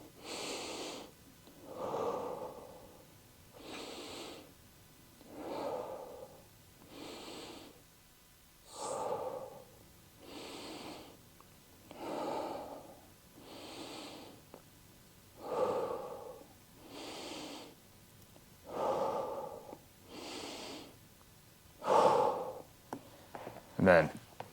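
Slow, deep breaths during a glute stretch in a golf workout: about a dozen evenly spaced inhale-exhale cycles, close and clearly audible, with short quiet gaps between them.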